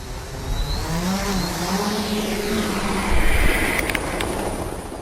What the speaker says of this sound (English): we had this new bit of technology, this small helicopter, that we were able to deploy and take our cameras just 20, 30 meters above the ground